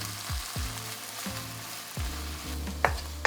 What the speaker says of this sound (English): I'll saute some shungiku, chrysanthemum greens, and a little garlic and red chili.